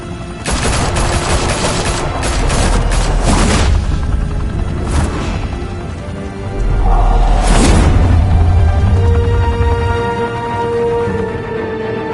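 Heavy gunfire erupts in Batman: The Telltale Series, dense bursts of shots and booms rolling over one another loud and close, with a couple of brief lulls before another sustained volley.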